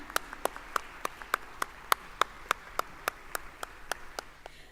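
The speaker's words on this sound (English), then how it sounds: "Come on, keep that applause going." Hand clapping at an evening anniversary celebration for a skills development center, a sparse, steady run of single sharp claps in an even rhythm over a quiet room, faint and nearby.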